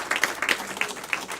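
A small audience claps together in a short, scattered burst of applause, close and fairly soft, with a few sharper individual claps standing out and no talking over it.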